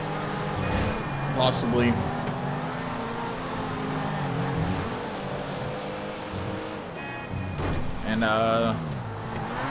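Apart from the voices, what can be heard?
car engine driving in video game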